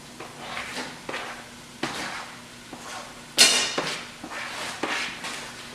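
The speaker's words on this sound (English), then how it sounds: "Toss our tomatoes in." Tomatoes tossed into a hot pan of spiced oil with turmeric while cooking an Indian dish, giving a scattered series of soft thuds and clatters plus one sharper sizzling clink, close by with no talking.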